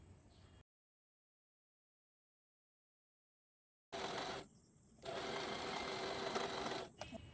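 Sewing machine stitching the side seams of a peplum-style top, a close steady whirring run that starts after a long silence, pauses briefly, then continues loud to the end.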